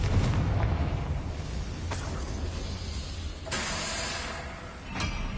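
Confringo blasting curse going off in Hogwarts Legacy on PS5, a booming explosion with rumbling low end and a few sharp cracking bursts and crashes following over several seconds.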